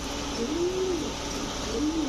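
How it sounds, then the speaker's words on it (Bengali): Pakistani Rampuri pigeons coo in two drawn-out, rising-and-falling calls, quiet and close, against a steady hiss of background noise. "এই হচ্ছে পাকিস্তানি রামপুরি কবুতর"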